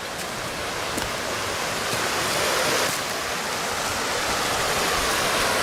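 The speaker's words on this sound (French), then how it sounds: "Donc là vous pouvez apercevoir le petit torrent." Small mountain torrent near a very old water mill in Corsica, a continuous broad rushing of flowing water, steady and fairly loud, with no voices.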